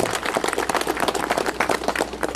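An audience at an agreement signing ceremony in Usicayos, Peru gives a dense burst of applause, many hands clapping at once, loud and close for the whole stretch.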